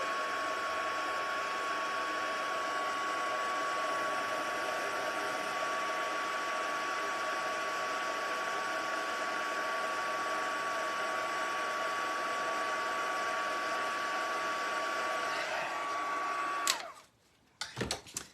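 A heat tool blows a loud, steady hiss and hum close by while melting white embossing powder on a craft treat box, running without a break before cutting off abruptly near the end, no talking.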